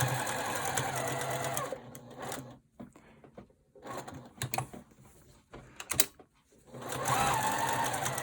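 A sewing machine stitches patchwork onto a kitchen towel with white thread, running in steady whirring bursts that stop and start, with short quiet pauses between runs and a brief clatter in the middle.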